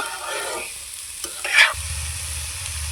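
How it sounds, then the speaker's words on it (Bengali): A spoon scrapes and stirs sugar in a hot pan as it melts, with a steady soft sizzle throughout, close up and without talking. "চিনি দিয়ে নেড়ে চেড়ে চিনিটাকে গলতে দিব।"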